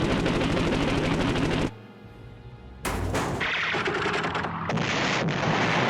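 Loud bursts of rapid machine-gun fire from an Fw 190 fighter in an air-combat game, broken by a short lull and then more firing.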